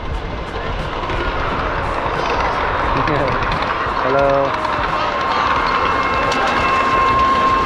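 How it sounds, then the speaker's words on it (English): A high-speed bullet train in Taiwan rushes past with a sustained loud roar and a rising tonal whine, while people chat nearby and one voice gives a short greeting. "Here comes the bullet train."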